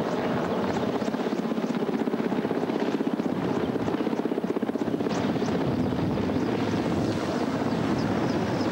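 A military helicopter flies overhead during a special forces operation, its rotor chop steady and loud throughout with a continuous engine roar and no pause.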